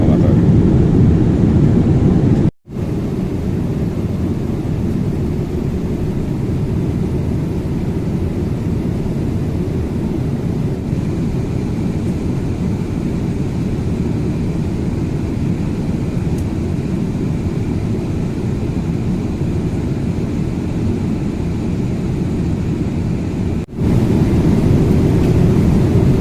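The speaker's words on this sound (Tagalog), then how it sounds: "I-start na mag-descend yung aeroplano." Qatar Airways airliner cabin during descent: a steady, loud low-pitched engine and airflow drone filling the whole span, with a brief dropout near the start and another near the end.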